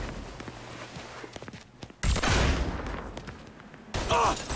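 Gunfire in the Mafia III video game: scattered sharp shots and footsteps, then two loud bursts of firing that cut in abruptly, close and harsh.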